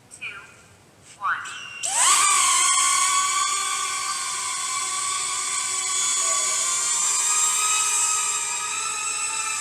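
A DJI Neo mini drone flying indoors inside a building gives a sharp, high-pitched rotor whine that spins up abruptly and then holds steady and loud close by, its pitch shifting slightly as it moves.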